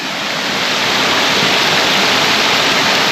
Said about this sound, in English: Trent Head Waterfall.